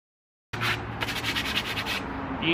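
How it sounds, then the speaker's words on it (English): A hatchet handle with a poly finish being sanded by hand with 220-grit sandpaper, a close, steady rasping rub that starts abruptly after a brief silence and continues without talking. "we're gonna sand this down because I don't like the poly finish that's on this."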